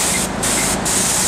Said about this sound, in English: Right about now we're going to actually rinse off the product that we applied.